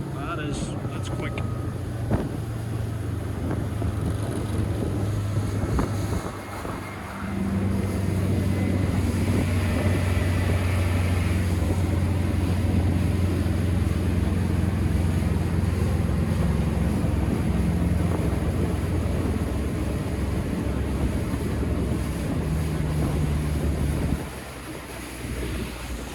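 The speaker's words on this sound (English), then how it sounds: "The boat's running really well, doing everything that you would expect it to do." 2021 Zodiac Open 6.5 RIB with a Mercury 150HP outboard running at speed around 38 knots, a steady engine drone under heavy wind buffeting and hull slap on waves, with someone talking over it.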